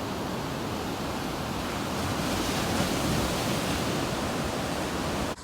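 Ocean tide rolls steadily against the base of coastal rocks at a beach, a dense continuous roar of surf and wind heard close and loud from a parked car, with no talk.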